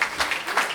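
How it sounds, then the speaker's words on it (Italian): Brief burst of audience clapping for two authors at a folk group's performance in Lusiana, a few quick swells of hands with no voices. "Un applauso finale ai nostri due autori"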